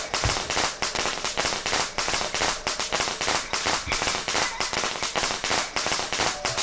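Firecrackers burst in the horror video game Shadow Corridor, a dense, continuous string of sharp, loud pops crackling close and rapid throughout.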